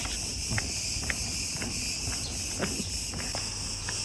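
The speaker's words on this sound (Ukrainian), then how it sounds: "І цикади, як завжди," Cicadas on an evening in Chania, Crete: a steady, high buzzing drone that persists throughout, with scattered soft footsteps and faint outdoor noise in the background.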